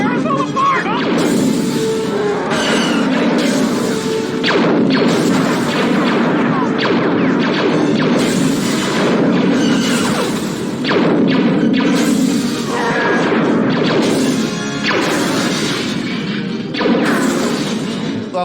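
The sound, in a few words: explosions of security cameras being blown up in Star Wars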